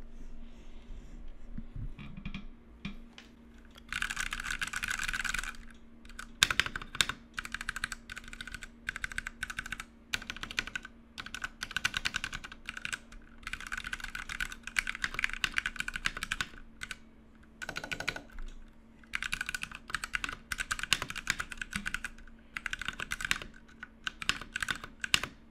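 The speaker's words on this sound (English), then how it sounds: "I'll give you guys a sound test. I'll put it super close to the mic." A Ducky Mecha Mini mechanical keyboard is typed on close to the mic, giving bursts of quick, crisp key clacks with short pauses between runs and a faint background hum.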